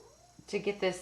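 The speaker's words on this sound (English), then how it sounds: "If you hear sounds, that's my cat." A pet cat playing with a dog indoors, giving three short, close meow-like calls in quick succession after a quiet moment.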